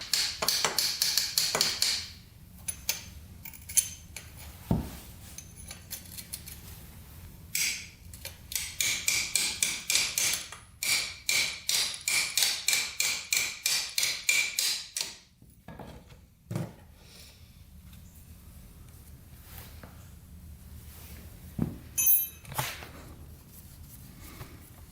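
Wrench on the oil drain bolt of a Yamaha YZ80 dirt bike: quiet bursts of rapid metallic ratchet clicks, several short runs spaced apart with lulls and a few isolated knocks in between.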